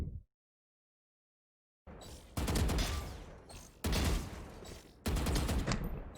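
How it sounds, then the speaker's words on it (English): Loud bursts of rapid gunfire in the video game Valorant, several volleys separated by brief pauses after a stretch of silence. "Nobody cares about what the gunshots and the headshots sound like"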